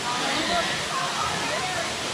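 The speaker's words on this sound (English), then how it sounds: "Is there a place to jump off? I think so. By that waterfall." A waterfall in Japan gives a dense, steady rushing roar, loud and close, with no break across the short stretch.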